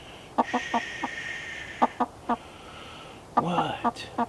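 Clucks and cackles from a hen at a backyard coop come in short rhythmic bursts, with a louder agitated squawk near the end, close to the microphone.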